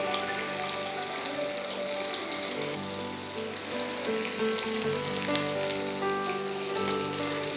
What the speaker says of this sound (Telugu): ఫస్ట్ ఒక బ్యాచ్ ఫ్రై అయిన తర్వాత మళ్ళీ మిగతా బ్యాచ్ వేసేద్దాం.